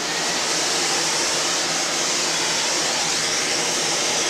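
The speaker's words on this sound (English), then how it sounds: "I'm going to start with clearing it out with the vacuum cleaner" A vacuum cleaner sucks dust out of a disassembled fan, a steady loud broadband whoosh that holds evenly for several seconds with no talking.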